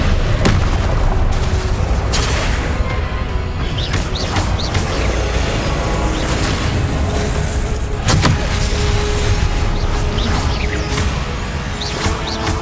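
Confringo fire spell cast repeatedly in Hogwarts Legacy, loud booming blasts and crackling bursts over continuous dense combat noise, with sharp explosive hits at irregular intervals.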